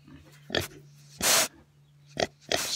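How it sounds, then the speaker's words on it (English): A pig on a farm grunting and snorting up close, several short loud bursts and one longer rasping snort, with a steady low hum underneath. "She's a red pig."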